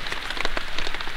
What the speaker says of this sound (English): Being in here doesn't even offer you any protection. The rain still gets here.